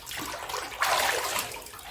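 An infant named Roma is dipped under bathwater during baby swimming in a narrow home bathtub, a soft close splash and slosh that swells midway and then settles into gentle lapping.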